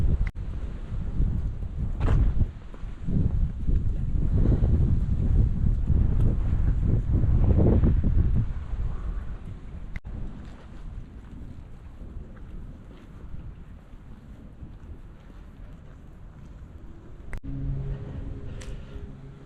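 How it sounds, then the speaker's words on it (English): Strong wind gusts buffet the microphone at an outdoor cemetery on a cold day, roaring loudly at first and easing into a steadier, softer rush, with no talking. "wind is starting to kick up"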